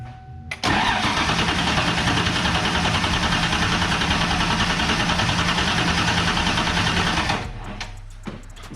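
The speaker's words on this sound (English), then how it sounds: "we're gonna compression test this motor too before we pull the intake" A 351W-based 408 stroker V8 cranks over steadily on the starter for a compression test, a loud continuous rhythmic churn lasting about seven seconds before cutting off abruptly, with no ignition.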